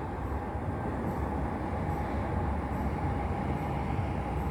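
An LRT light rail train passes nearby with a loud, continuous rumble and rolling wheel noise that holds steady throughout, and no voices are heard.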